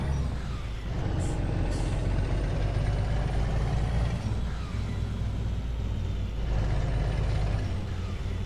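A truck's engine brake in Euro Truck Simulator 2 gives a steady low, rumbling drone with broad road and engine noise, continuous and fairly loud, with faint higher whines drifting in and out.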